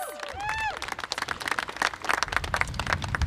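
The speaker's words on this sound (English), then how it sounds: "Let's give them all a round of applause" A crowd at an outdoor harm-reduction rally in Pennsylvania breaks into lively applause for the speakers, many hands clapping close and loud after a brief cheer or whoop at the start.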